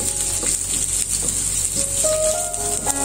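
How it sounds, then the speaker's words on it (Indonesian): Shallots, garlic and onion sizzle steadily in hot cooking oil, a dense continuous frying hiss with faint stirring clatter and a few tonal squeaks, close and loud with no talk. "kita tumis bawang merah, bawang putih, kalian bawang bombenya ya"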